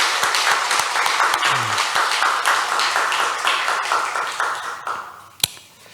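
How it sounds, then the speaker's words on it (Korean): A large church congregation claps steadily and warmly in a hall after a hymn, dense applause that gradually thins out and ends with a single sharp knock. "이 찬양을 기쁘게 받으신 우리 하나님께 영광의 박수를 올려드리겠습니다"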